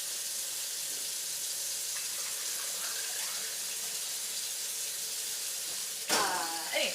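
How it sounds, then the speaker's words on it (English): Water streams steadily from a tap into a pot for boiling macaroni, a continuous rushing hiss that ends with a short clatter near the finish. "I'm gonna have to add a lot more water and bring it back up to a boil."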